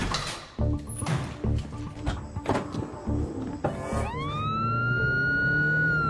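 An ambulance siren in a film rises and wails steadily after a stretch of clattering action sounds, loud and close.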